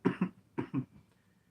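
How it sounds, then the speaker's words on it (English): Two pairs of harsh coughs from a person, close and fairly loud, the first pair at the start and the second about half a second later, followed by quiet. "I hate my cough so freaking much."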